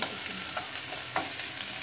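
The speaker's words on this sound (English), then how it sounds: "Now mix it." Okra curry (bendakaya pulusu) being stirred in a pan, soft scraping strokes of a spoon over a steady frying sizzle, close up and without talk.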